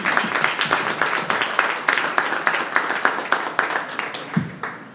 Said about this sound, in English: I'm just going to give another round of applause to Gigi.